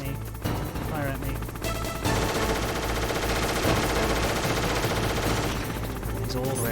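Enemy gunfire in the stealth game Metal Gear Solid: dense, sustained bursts of shots over a continuous music bed, loud and steady for several seconds with a quieter opening.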